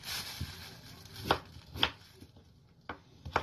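Food being cut up on a kitchen board while cooking, with a few sharp, separate knife chops landing at irregular intervals, close and fairly quiet against a faint background.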